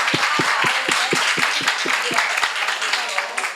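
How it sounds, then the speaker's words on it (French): An audience at an evening conference session applauds, a dense wash of clapping that fills the whole stretch with some sharper individual claps near the front, while a voice speaks over it. "Je vous demande de bien vouloir applaudir le travail énorme"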